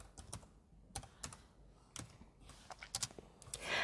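Quiet computer keyboard typing in short bursts of a few keystrokes each, entering a layer name in Photoshop, close and soft, followed by a rising rustle at the end.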